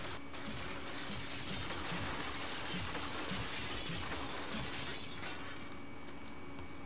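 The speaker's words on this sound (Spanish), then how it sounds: "Aquí se van a romper todos estos vidrios." Glass windows shatter in the video game Far Cry 6, a loud, dense crash of breaking panes that sprays on for several seconds before thinning into scattered tinkling debris.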